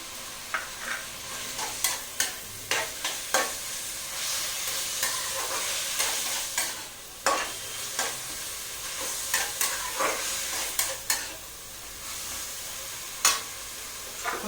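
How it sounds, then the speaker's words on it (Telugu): Tomatoes, onions and green chillies with salt cooking in a pan, a soft continuous sizzle broken by repeated sharp scraping and clinking stirs every second or so, close and alone. "ఇవన్నీ బాగా టమోటాలు ఉల్లిపాయలు పచ్చిమిరాయలు అన్నీ బాగా మగ్గాలండి"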